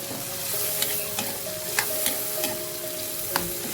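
Fermented fish bagoong sizzling in a pan as it is stirred, a soft steady fry hiss punctuated by several sharp utensil clicks against the pan, close and moderately quiet with no talk.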